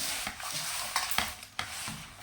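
Pieces of korameenu fish get tossed by hand with oil and a paste of chili powder, turmeric and salt, making soft, wet, squelching mixing strokes with a few sharper scrapes, close and fairly quiet, no speech.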